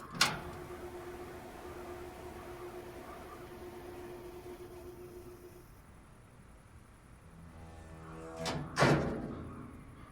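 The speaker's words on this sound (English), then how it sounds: "And open the cargo doors." Cargo doors open on an Aerosoft Twin Otter in the MSFS2020 flight simulator: a sharp clunk, then a steady mechanical hum that fades away, followed later by two quick thuds, all fairly quiet and with no voices.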